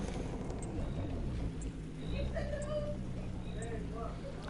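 A car engine idles in the racing game The Crew 2, meant to sound like a Nissan GT-R: a steady low rumble that holds throughout, with a voice talking over it.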